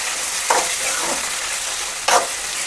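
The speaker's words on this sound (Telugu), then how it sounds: "టమాటోని వేసుకున్న తర్వాత అటు ఇటు కలుపుకోవాలి" Tomatoes frying in a pan after roasted onions, sizzling steadily while a utensil stirs them side to side, with two distinct scraping strokes standing out close up over the hiss.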